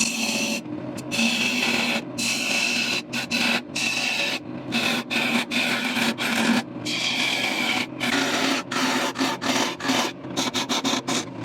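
Red cedar birdhouse being hollowed out on a wood lathe, a continuous rasping scrape of the cutting tool against spinning wood, broken by frequent short pauses as the tool lifts off.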